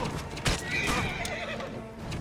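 A horse whinnies loudly and near in the Assassin's Creed Origins video game, one clear neigh over a steady background of in-game noise, with no talk.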